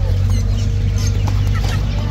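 Sultan chickens clucking at a busy animal market in Baghdad, soft clucks over a constant heavy hum of crowd and engine noise.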